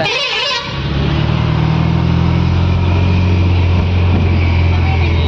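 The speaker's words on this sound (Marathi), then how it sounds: "आलेली कर्नाटकवरून गाडी." Engine of a vehicle from Karnataka rumbling steadily and loudly nearby on a coastal road near Ganpatipule, Ratnagiri, with a low hum running throughout.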